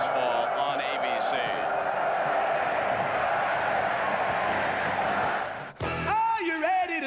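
Steady roar of a football stadium crowd in Little Rock at the 1991 Miami versus Arkansas game, a broad sustained din with a voice talking over it, cut by a brief drop before a jingle-like tone near the end.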